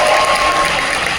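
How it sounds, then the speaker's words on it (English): An audience gives a round of applause at a film trailer launch event, a dense, loud burst of clapping that fills the brief moment without pause. "Please give her a round of applause."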